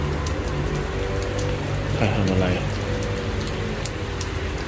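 Rain falls steadily with a dense pattering hiss and drips, while a voice speaks briefly over it.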